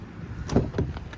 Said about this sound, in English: pull my handle, I head it up to unlock every single door.